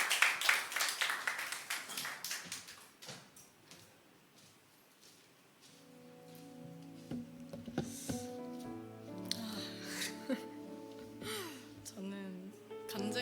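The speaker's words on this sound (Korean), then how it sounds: "나올 때 큰 박수로 맞이해 주세요." A church young-adults congregation claps to welcome a woman coming forward to give a testimony. The clapping is brisk and fairly close, then thins out over a few seconds, and soft instrumental music rises beneath it.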